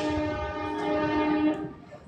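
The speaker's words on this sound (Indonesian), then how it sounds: "Nah, itu bunyi kereta teman-teman nggak tahu nggak?" A train near the Whoosh high-speed rail station sounds a sustained, tonal horn that holds steady for about two seconds at moderate distance, then fades out.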